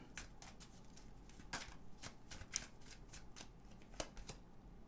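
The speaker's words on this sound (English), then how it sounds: "Let me pull a fallback card for you." Tarot cards are shuffled before a card is pulled, giving quick, soft riffling bursts and crisp flicks in an irregular rhythm, close and fairly quiet with no talk.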